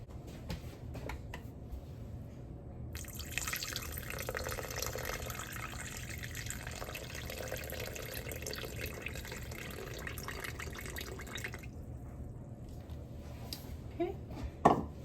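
Water running from a kitchen tap into a container while measuring it out for sourdough bread dough, a steady close stream that cuts off near the end with a faint clatter.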